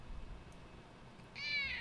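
One close, insistent meow from a house cat comes in the last half second after near silence.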